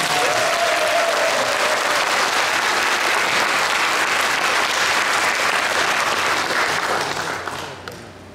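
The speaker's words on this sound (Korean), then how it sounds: "우리 동성의 식구들 위해서 서로 박수 한번 해주시기 바랍니다" Loud, sustained applause from a church congregation at an anniversary classical concert, dense clapping that holds steady for several seconds before tapering off toward the end.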